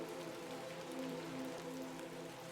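Steady rain patters and hisses without letup in The Excavation of Hob's Barrow, a soft, even wash with a low murmur beneath it and no talk.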